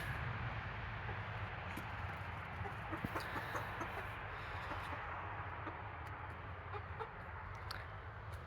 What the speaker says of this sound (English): And these are chickens.